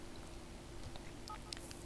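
Phone dialing tones in The Sims 4: a few short, quiet electronic beeps near the end over a low background hum.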